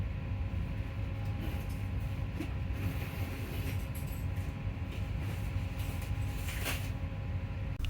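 Riding inside an NS ICNG intercity train in the Netherlands, a steady low rumble of wheels and motors fills the carriage, with faint rattles and occasional soft clicks, no talking.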